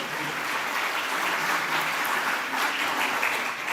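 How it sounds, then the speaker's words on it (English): An audience at a graduation convocation applauds the faculty and staff with dense, steady clapping that fills the hall evenly at moderate loudness, no voices standing out. "the faculty and staff at ACJ deserve a special round of applause for the hard work they have put in"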